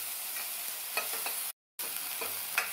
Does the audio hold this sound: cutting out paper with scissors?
no